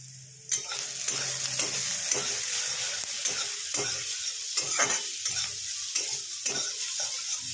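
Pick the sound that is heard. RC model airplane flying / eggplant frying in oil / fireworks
eggplant frying in oil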